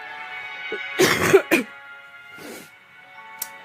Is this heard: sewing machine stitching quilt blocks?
no